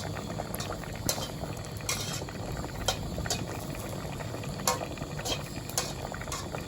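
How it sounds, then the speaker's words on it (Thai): Bamboo shoots boiling in a pot of water, a steady, close bubbling roil throughout with scattered sharper pops and clinks, continuous and unbroken, with no voices. "จากนั้นเราก็ทำการต้ม หน่อไม้ให้สุกนะครับ"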